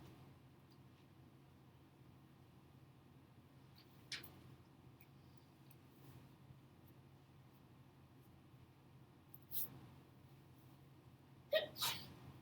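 A sneeze during a quiet maths lesson comes as a short, faint burst near the end, after a few small clicks and rustles in an otherwise hushed room.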